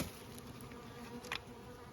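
Honey bees buzz at the hive entrances of strong colonies, a steady close droning hum held through the brief moment with no voices.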